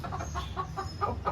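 A rooster with a broken beak clucks in short repeated bursts at a pet house, close and moderately loud, with other animals around.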